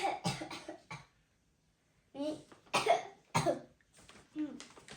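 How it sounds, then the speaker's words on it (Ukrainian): A few short, soft coughs in quick bursts, scattered across a quiet room with small pauses between them. "Кашлюнчик маленький."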